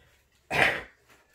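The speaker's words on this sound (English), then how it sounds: "I just have ex-smoker's cough" A single rough, hacking ex-smoker's cough bursts out close up, lasting about half a second, then quiet breathing.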